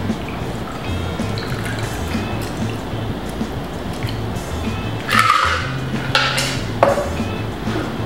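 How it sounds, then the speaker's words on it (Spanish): Chivas Collins cocktail liquid poured out of a glass, a short splashing rush in the middle of the clip with a few brief trickles after, over steady low background hum. "Vertemos el contenido del vaso."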